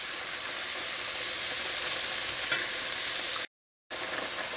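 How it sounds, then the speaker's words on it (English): Corned mutton being stirred into a macaroni pie mixture in a hot pan, with a continuous close sizzle and hiss and soft scraping stirs, broken by a short silent gap near the end. "mix everything together and try and break up the corn mutton as you're mixing it"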